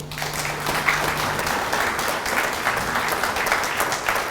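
Steady applause from the audience fills the hall at the opening of the inaugural Fiji Tuna Symposium, sustained and fairly even for several seconds with no talk over it.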